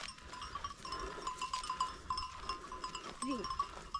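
Sheep and goats bleat softly and intermittently at a distance in a rural pen, over a low outdoor hum and faint bell-like tinkles.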